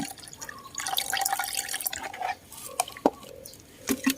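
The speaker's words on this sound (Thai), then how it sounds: "แล้วก็เติมน้ำสบู่สองแก้วลงไปเลยนะคะ ประมาณ 400มลนะะ" Soapy water is poured into a homemade garden insect-repellent mixture, giving faint close splashing and dripping with scattered liquid plinks.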